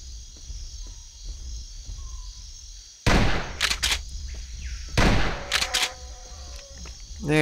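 A shotgun fired in the Jurassic Park Hunter Legends video game, with two loud, sharp blasts about two seconds apart, each followed by a quick echoing tail over a low ambient jungle background.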